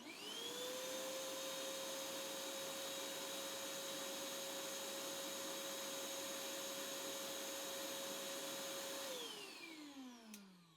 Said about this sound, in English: Let's go ahead and kick on the shop vac.